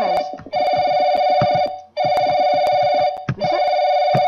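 A telephone rings loudly in the horror video game Paranoic, three long electronic trilling rings separated by short gaps, close and alone with no voices.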